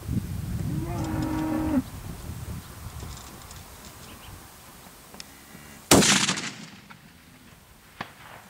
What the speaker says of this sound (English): gonna take a shot now at the manhole cover on your right side